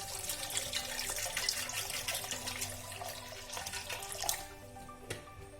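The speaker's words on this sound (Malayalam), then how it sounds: "നമുക്ക് നന്നായിട്ട് തണുത്ത വെള്ളം കൂടി ഒഴിച്ചു കൊടുക്കാം" Cold water is poured in for lemon juice, making a steady close splashing and gurgling flow throughout, with a few small clinks near the end.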